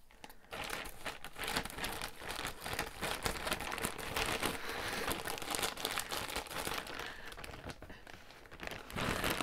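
Continuous close crinkling and rustling of wrapping being handled and pulled open on a mystery yarn package, busy and uneven, with no talking.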